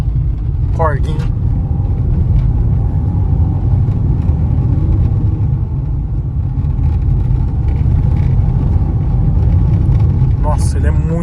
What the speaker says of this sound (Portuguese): carro tão bom de estrada de chão, mas esse barulho aí parece que não é, né?